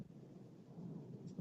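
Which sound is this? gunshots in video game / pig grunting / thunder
thunder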